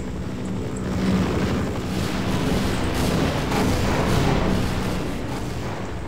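A helicopter in the Half-Life video game gives a loud, dense roaring rumble with a rough, choppy low throb that runs without a break for several seconds and has no speech over it.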